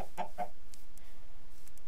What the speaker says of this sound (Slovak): Nás tu privítali sliepky